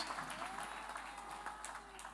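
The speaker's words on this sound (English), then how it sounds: "Let us give God a hand clap of praise." Congregation clapping in praise at a Sunday church service, a dense burst of many hands applauding together, steady and fairly faint for a couple of seconds.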